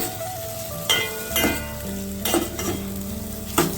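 Brinjal and drumstick frying with tomato in a pan for a dried-fish curry, a steady close sizzle broken by several sharp stirring scrapes and clatters.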